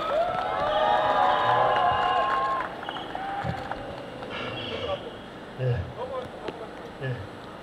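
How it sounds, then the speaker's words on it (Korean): Crowd at a Democratic Party campaign launch rally in Dangjin, South Korea, cheers and claps in a loud, sustained wash that fades into murmuring and occasional shouts. "여러분 무렁찬 함성과 박수 부탁드립니다"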